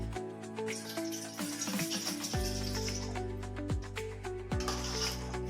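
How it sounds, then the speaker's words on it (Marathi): Water splashes and sizzles into a hot pan of Maharashtrian besan pitla (gram flour), with a few sharp clinks of a utensil against the metal; steady and close, no talking. "थोडस पाणी टाकूया"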